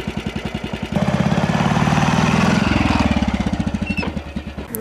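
A vintage Heinkel scooter engine runs steadily with a rapid, pulsing firing rhythm, climbing in pitch and load as it revs, then dropping and resettling after a gear change, loud and close with no voices.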